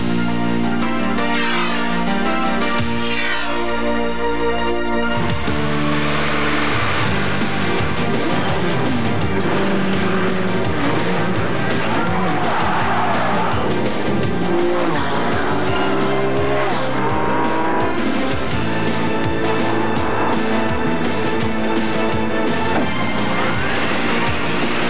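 Stadium off-road racing trucks roar through a Mickey Thompson race, loud engines rising and falling continuously with occasional bangs and tire noise over a dense, crowd-like din.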